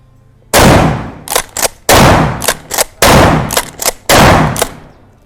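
Four loud, close gunshots fired in one series from a civilian-accessible firearm, each a sharp crack followed by a brief echo, spaced roughly one second apart.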